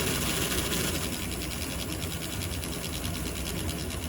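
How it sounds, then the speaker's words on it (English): A vintage HO scale model trolley's small electric motor runs with a steady, dense mechanical whir and rattling grind, close and continuous, with no talking. "that motor needs a little warming up"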